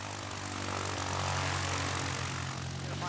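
A light propeller aeroplane taxis at an airport during a flying lesson, its engine giving a steady, continuous drone with a low hum throughout.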